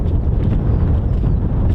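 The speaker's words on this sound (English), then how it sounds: "Peter Madeline, it is quite windy." Strong wind buffeting the microphone outdoors at a live airshow, a loud, steady low roar of gusts with no engines, no talking.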